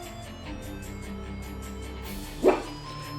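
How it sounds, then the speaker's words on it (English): A dog gives a single short bark nearby, cutting briefly through a steady tonal background of music during a Pokémon match broadcast. "I apologize for my dog."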